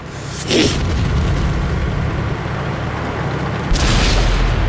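Artillery fires in World of Tanks, two deep booming shots a few seconds apart, each a heavy blast over a constant rumbling background.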